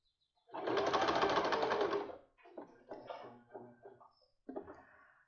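A sewing machine stitches ribbon onto the hem of a dish towel, with one long steady run of fast whirring followed by a few shorter stop-start bursts. The sound is close and clear.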